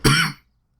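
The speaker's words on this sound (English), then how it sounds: "I'm now coughing like crazy." A single short, harsh cough bursts out close to the microphone and stops abruptly, leaving silence afterward.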